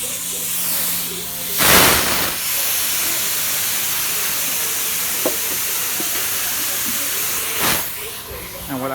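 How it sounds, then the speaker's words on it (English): A spray gun spraying white gel coat in a fiberglass shop releases two short, sharp hissing bursts, one early and one near the end, over a steady droning background. "spray it out to make sure all the white gel coat from the previous cup is sprayed out"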